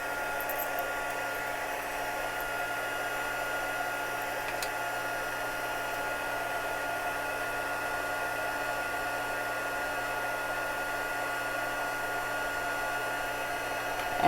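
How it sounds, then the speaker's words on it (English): A heat embossing heating tool blows a steady, even hiss of hot air, running continuously at moderate volume with no voices. "I'm going to go ahead and turn on my heating tool so it could warm up"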